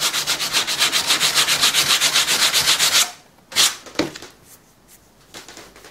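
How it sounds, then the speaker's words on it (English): A cane strip is sanded down to size for a handmade ornithopter: about three seconds of steady, rhythmic rasping strokes up close, then it stops, followed by a couple of light knocks and handling sounds. "I think the best way of doing this, getting to size, is just to sand it down."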